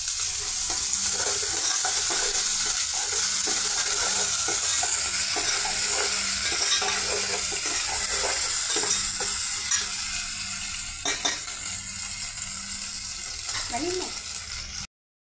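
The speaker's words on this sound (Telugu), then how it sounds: "ఆయిల్తో పెద్దల్లిపాయ పీసెస్ బాగా ఫ్రై అవుతున్నాయండి." Onion pieces fry vigorously in oil with a loud, steady sizzle, punctuated by repeated stirring scrapes and clicks of a utensil against the pan throughout.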